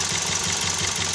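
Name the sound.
Toyota Vios engine misfiring with broken injector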